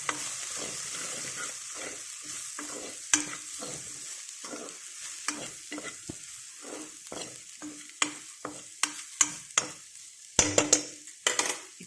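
Okra curry with onions is stirred in a pan: a spoon scrapes and clicks in an irregular rhythm over a soft sizzle, and the strokes grow sharper and louder toward the end.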